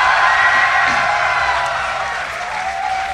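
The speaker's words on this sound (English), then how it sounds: "I think the crowd knows what they want, Sean." A large crowd at a DreamHack StarCraft tournament cheers and applauds loudly and steadily, a dense wash of clapping and whoops filling the hall for the whole stretch.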